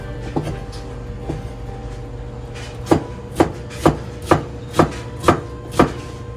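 A knife chops ingredients on a cutting board during shrimp-and-coconut recipe prep: a few soft taps, then a steady run of about seven crisp, evenly spaced chops, close and clear with no talking.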